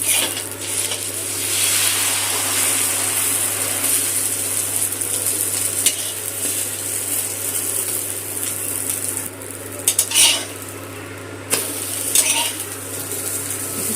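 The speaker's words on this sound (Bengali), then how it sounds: "একটু তেল গরম করে নিচ্ছি, অমলেটটা ভেজে নিচ্ছি।" A thick omelette frying in hot oil in a pan, a steady close sizzle running throughout with occasional clinks of a utensil against the pan.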